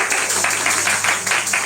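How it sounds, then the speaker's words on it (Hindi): An audience claps steadily as a guest comes up to the stage, a loud, close wash of hand claps with a faintly rhythmic pulse. "आइए अभी मदन आते समय आप लोग ताली बजाइए, ताली बजा के उनको"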